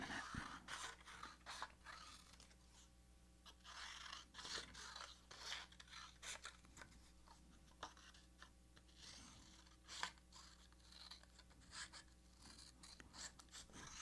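Scissors snip through paper in a quiet room, a series of close, crisp cuts coming in irregular bursts with soft rustling between them and no talk.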